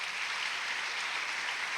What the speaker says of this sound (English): Can we give these student leaders a big round of applause?